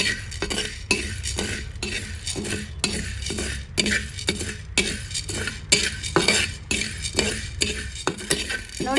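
Chana dal dry roasting in a pan over medium flame, a spoon scraping and clinking against the metal in a quick, steady stirring rhythm, close and fairly loud with no talk.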